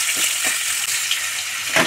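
Thin, long-cut potato strips frying in hot oil for a Bengali hilsa dish, a loud, steady close sizzle and crackle throughout.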